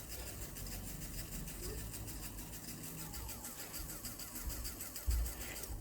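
A small DC motor switched by an Arduino with a GSM module runs with a faint, steady whirring buzz, heard under a person talking.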